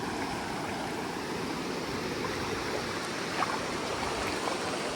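Stream water at Malgund in Ratnagiri, Konkan, where a car stands with its tyres half in the flow, makes a steady, close rushing and gurgling that stays even throughout, with no voices.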